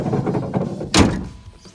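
A single solid thunk of a door slamming shut, sharp and close, after a stretch of low muffled rumbling.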